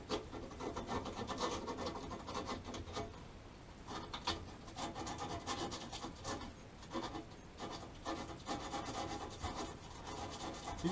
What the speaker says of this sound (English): take a little piece of sandpaper and smooth out this edge